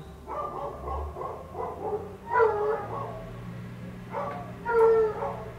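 Neighbourhood dogs bark at moderate distance outdoors, a few spaced barks with a couple of louder, sharper outbursts and some whimpering yips in between.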